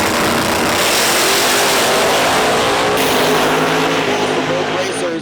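Drag race cars at a street-class drag event accelerating down the strip, a loud continuous roaring wash of engine noise with a crowd-like din, as an announcer talks over it.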